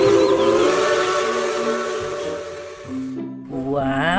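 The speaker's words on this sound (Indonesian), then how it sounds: "ada kereta api Thomas." Whistle of a Thomas and Friends toy train, a loud steamy hiss with tonal whistle notes that shift and bend in pitch over a few seconds, sounding close with no talking.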